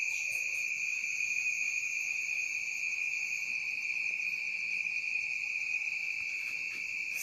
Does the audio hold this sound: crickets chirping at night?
yes